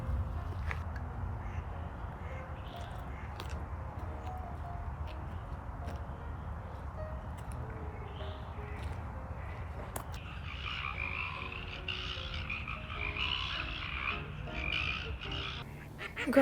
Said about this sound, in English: the frogs are going crazy